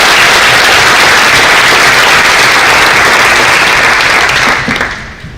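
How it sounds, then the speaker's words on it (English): Loud, dense audience applause at a political gathering for a mayoral candidate, sustained for about five seconds before fading out quickly at the end. "Let's applaud them both for all they do."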